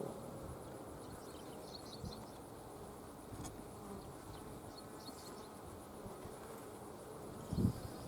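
Honeybees on hive frames give a steady, faint buzzing hum throughout, with a short louder bump of handling noise near the end and no talk.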